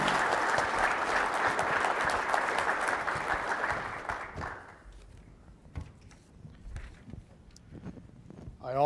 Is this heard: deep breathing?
no